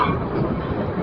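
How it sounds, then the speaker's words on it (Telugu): A train rolls past on the adjacent track on a rainy morning, heard as a loud, continuous rumbling roar close by, with no voices. "పక్కన ట్రైన్ వెళ్తుంది ట్రాక్ మీద నుంచి."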